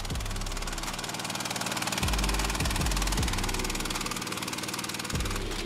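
Opti motordog ATV engine straining while towing a vehicle through dirt, a loud continuous mid-pitched drone with rhythmic knocking pulses and a few heavier surges of load.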